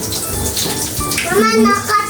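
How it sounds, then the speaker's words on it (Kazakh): Bath crystals crackle and fizz in water with a busy, sputtering hiss, and a voice speaks briefly near the end. "Әлі де тырсылдап жатыр"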